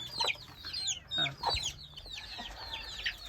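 Several chickens cluck and squawk in short, overlapping calls, fairly close, with scattered bursts throughout and no voices.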